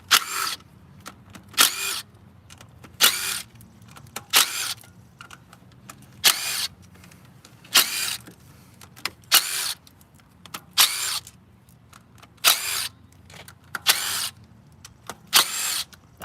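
A power tool removes the valve cover bolts on a Toyota Prius during a head gasket job, firing about ten short, loud bursts at a regular pace with quiet gaps between them.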